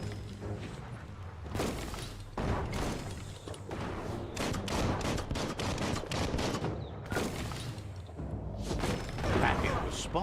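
Bomb lobber weapon in Biomutant firing repeatedly, a string of loud punchy blasts and thuds with mechanical clatter, spread over several seconds under a voice talking.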